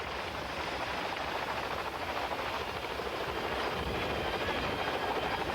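A Sikorsky CH-53 Sea Stallion flies alongside a smaller Boeing CH-46 Sea Knight, their rotors and turbines making a steady, continuous broadband roar with a faint rhythmic throb, fairly distant and unbroken.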